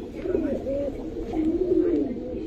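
Giribaz pigeons coo softly nearby, a few low, rolling calls in quick succession over faint background noise.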